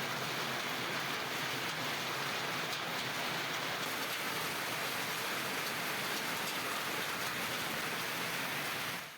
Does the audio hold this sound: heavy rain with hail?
yes